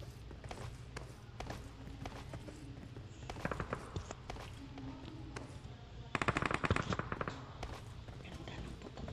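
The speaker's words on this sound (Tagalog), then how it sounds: "Ganda ng putok ng baril nila." Bursts of automatic gunfire and scattered shots crack out in a PUBG Mobile match, some distant and some closer, over footstep noise, with a louder rapid burst near the end.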